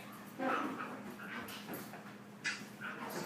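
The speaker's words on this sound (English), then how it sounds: "Oh, wait 1 second, I gotta put my dog outside." A dog whimpers and whines in soft, faint bursts after being put outside, a few short cries spread across a quiet background with no talking.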